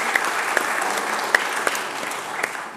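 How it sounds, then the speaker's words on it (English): Steady applause from an audience at an award presentation, a dense even patter of many hands with a few sharper individual claps standing out, sustained throughout at moderate loudness. "Give them a big round of applause."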